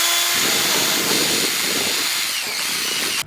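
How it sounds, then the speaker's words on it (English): A power drill bores a hole in a panel of a 2020 Camaro SS, a loud, steady high-pitched whine that holds for about three seconds and then cuts off abruptly, with no talking. "I already got the first drill bit in, and we'll go ahead and start working on this."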